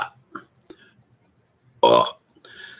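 A loud, drawn-out burp erupts about two seconds in, after a few faint vocal sounds, followed by a short breathy tail.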